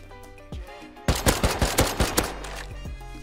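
Enemy gunfire in the survival game Rust: a couple of isolated shots, then a rapid burst of about eight sharp cracks in quick succession, followed by a few trailing shots, loud and close with no talking.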